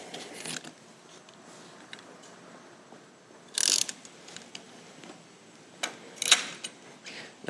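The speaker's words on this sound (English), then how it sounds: "and then we're going to torque them to 30" A ratchet wrench torques counterbore tool bolts on a Caterpillar C15/3406 engine block, giving a few sharp, close clicking bursts separated by quiet pauses.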